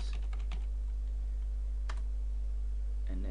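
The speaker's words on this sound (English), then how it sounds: "And so when I start beginning to type" Typing on a computer keyboard: a few light, close key clicks in a quick cluster at the start, another tap mid-way and a brief flurry at the end, over a steady electrical hum.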